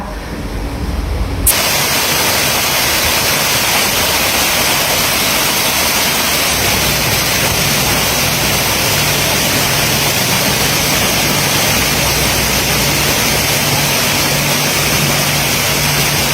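An artificial waterfall in a garden carp pond pours with a steady, loud rushing hiss. It runs without a break after a brief quieter opening, and no voices are heard.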